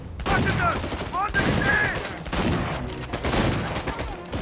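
Shotgun blasts and heavy gunfire in the action game Uncharted 4, a loud, dense run of shots with voices speaking over the fire.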